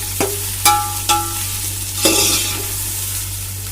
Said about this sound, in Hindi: प्याज को गोल्डन कलर आने तक हम इसे तेल में अच्छे से फ्राई करेंगे।